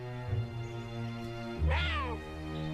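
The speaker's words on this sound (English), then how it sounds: "Cougars are the largest cats that purr." A cougar calls near by, giving two drawn-out, meow-like vocalizations: a short one early on, then a louder rising and falling cry, over a quiet steady background hum.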